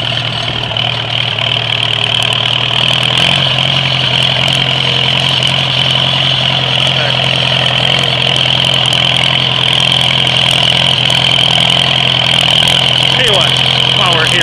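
A 1945 Farmall A tractor engine runs steadily, a loud, even mechanical drone with a constant low throb and rattle that holds unchanged for the whole stretch.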